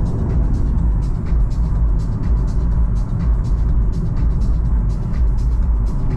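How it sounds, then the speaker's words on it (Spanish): Car noise fills the interior throughout, a steady loud road and engine rumble with no talk, as a Lexus drives along a narrow two-way road toward Monaco. "aquí va el coche estupendo"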